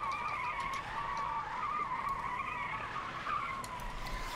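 Drifting car in the video game Fortnite, a thin, continuous tire squeal that wavers slightly in pitch and stays faint and distant throughout.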